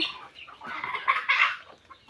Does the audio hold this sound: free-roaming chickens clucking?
yes